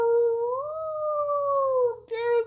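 A person imitates a dog howling, with a long wavering vocal howl that slides up and holds, then a brief break and a shorter final howl, close and clear.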